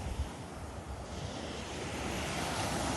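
Soft, steady wash of surf rolling onto a calm shore at Mexico Beach, Florida, a continuous broadband hiss with gentle swells and some low wind rumble, no voices.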